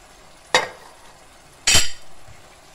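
Two short scraping strokes of a utensil stirring mushrooms and tomatoes in a pan, close and crisp, separated by about a second of near silence with faint background hiss.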